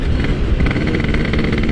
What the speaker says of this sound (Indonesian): knalpot gua sekarang ini yang gue pakai di motor gua adalah Boban C33 guys